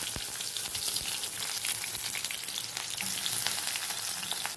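Onions and green chillies fry steadily in hot oil on a stove, a close, continuous sizzle with soft crackling pops and no talking.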